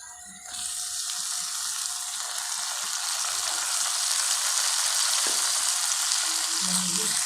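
Garlic, tomatoes, salt, chili and turmeric fry in a pan for a daal or sabzi, a steady loud sizzle that swells once the ingredients go in, with occasional faint clinks of stirring.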